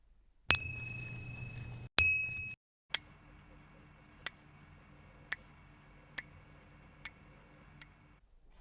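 Cymbals struck one at a time: two longer ringing hits with a low hum beneath, then six short, bright metallic pings spaced about a second apart, each decaying quickly; no talking.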